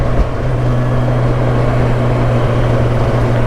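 A 2025 Kawasaki Versys 1100S motorcycle engine pulls hard in first gear at part throttle, a loud, steady droning roar that holds without letup, with wind rush over it and no talking.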